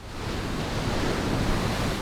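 Rough open-ocean surf at Cape Disappointment makes a steady, dense roar of crashing waves with wind buffeting the microphone. No voices can be heard.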